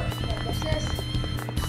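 A horse gallops in a Wii Party minigame, with quick rhythmic clip-clop hoofbeats over game music while a person talks.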